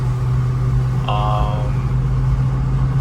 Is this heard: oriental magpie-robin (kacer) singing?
no